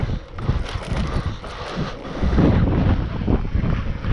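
Wind buffeting the microphone during an Apollo RFN electric dirt bike ride along the seaside, a loud continuous roaring rush that swells stronger in the second half.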